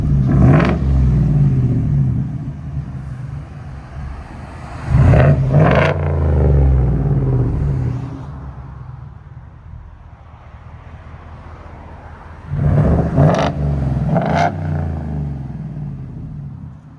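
A Ford F-150 with a 5.0L V8 and its muffler and resonator removed. The loud, raw exhaust rumbles steadily, with short revving bursts at the start, in the middle and near the end.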